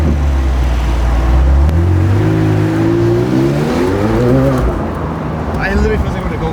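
A McLaren sports car accelerates hard onto a freeway, its engine note climbing steadily through the revs in a loud, close, sustained roar, with people talking over it.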